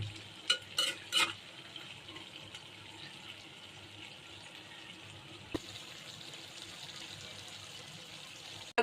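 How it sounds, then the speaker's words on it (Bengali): Chicken rezala cooking in a pan with green chilies is stirred, giving a few sharp scrapes early on, then a faint, steady bubbling sizzle, with a single soft knock near the end. "এখন আমি আরেকটু নেড়ে দিচ্ছি"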